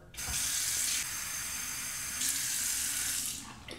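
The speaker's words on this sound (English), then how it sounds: "I'll fill up my marble cup with some hot water." Hot water runs from a tap into a marble lather bowl, a steady close splashing gush that flows for several seconds with a slight shift midway before cutting off, with no voices.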